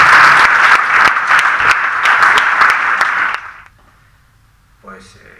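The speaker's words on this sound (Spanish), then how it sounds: "os pido un aplauso para ambos" An audience at a poetry reading applauds two guests with dense, loud clapping that stops abruptly after about three seconds, followed by near silence and a brief faint sound at the end.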